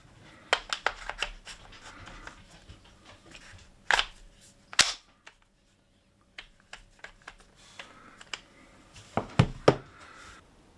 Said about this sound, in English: we'll fire out the window with a chronograph